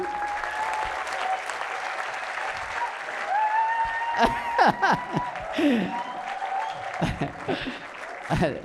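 A church congregation claps, a bright patter of applause rising and growing louder and more scattered, with voices calling out and clattering bursts mixed in over several seconds.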